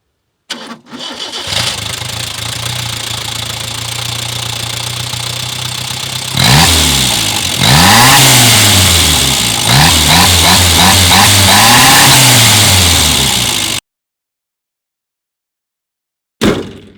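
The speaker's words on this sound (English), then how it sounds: "you have to just choke the engine to get more fuel in, so it burns harder" Choked Zastava 750 small car engine cranks and catches, idles roughly, then revs repeatedly in rising and falling surges, loud and close, before cutting off abruptly.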